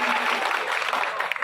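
Audience applause at a public gathering in an Indian market setting, a dense steady patter of many hands clapping throughout, fairly loud and close with no voices clearly on top.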